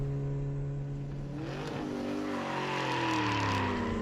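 A car skids and its tires squeal through a turn on a street, the sweeping screech rising over a steady engine drone and filling the whole stretch at moderate loudness, with no talk.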